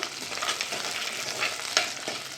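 Small onions and medium garlic cloves sautéing in hot oil while being stirred, a steady close sizzle with a few scraping strokes of the spoon and no talking.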